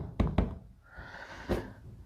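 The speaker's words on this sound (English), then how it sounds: "Close your door" A Ford F-150 fuel filler door being pushed shut, giving two close, sharp knocks followed by a softer thunk a moment later, with faint background hiss and no talking.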